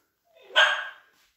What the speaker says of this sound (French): j'ai un chien d'entraînement